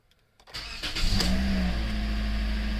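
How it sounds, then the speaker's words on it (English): A 2014 Toyota Corolla engine cranks after a few quiet clicks, catches within about a second and settles into a steady, close idle with a faint rising whine, no voices present. "So now we'll start the car."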